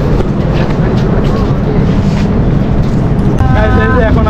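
Chitra Express passenger train at a Bangladeshi station, a steady loud rumble of rail and crowd noise with people talking over it, and a brief rising horn-like tone near the end.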